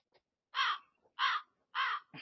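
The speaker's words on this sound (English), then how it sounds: "The birds are squawking." Three loud crow-like caws ring out one after another at an even pace, each harsh and drawn out, with a shorter squawk at the very end and quiet in between.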